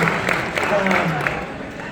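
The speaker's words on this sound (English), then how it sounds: "can you give your spouses a round of applause?" A gala audience applauds their spouses, a brief burst of crowd applause that fades out under a voice.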